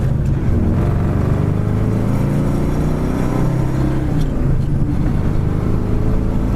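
1955 Ford with a slightly loose shifter driving down the road through the gears, a constant loud engine and road rumble with a subtle pitch change around a gear shift, recorded from inside with no voices.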